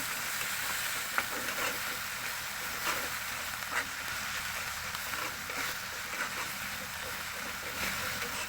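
Ginger-garlic paste with turmeric and chilli powder fries in a pan for a pumpkin curry. A soft, even sizzle runs throughout, broken by occasional light stirring taps.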